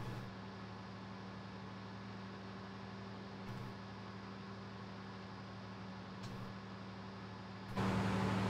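A New Holland wheel loader engine in Farming Simulator 19 hums steadily with a low drone and constant broadband noise, swelling slightly louder near the end, with no talking.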